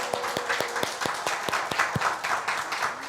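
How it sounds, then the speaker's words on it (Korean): Church congregation clapping together in a sanctuary, distinct sharp claps landing in a regular, fairly even rhythm at moderate volume, roughly a dozen beats in quick succession. "예, 박수 주십시오."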